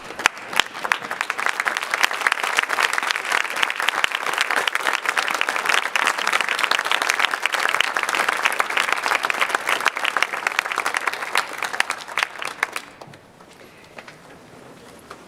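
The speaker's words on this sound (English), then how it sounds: "give your parents a round of applause for the support they have given you over the years" Students at a high school senior awards ceremony give their parents a loud, dense round of applause that runs steadily for about thirteen seconds before cutting off abruptly.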